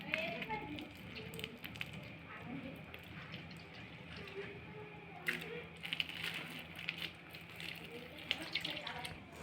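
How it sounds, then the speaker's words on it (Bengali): Liquid palm pulp for a palm patishapta pitha batter is strained through a sieve, giving a steady wet trickling and splashing with a few louder sloshing bursts, close by, under faint background talk. "আমি এবার ভালো করে ছেঁকে নেব"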